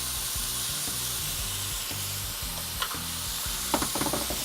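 Beef cooks in a hot pan with sauce and sugar, sizzling steadily and fairly loudly while a utensil scrapes and stirs through it in short rhythmic strokes, with a few sharper clinks near the end.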